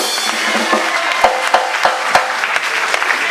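A church congregation applauds, a dense, lively patter of many hands clapping with a few sharper claps standing out, loud and continuous throughout.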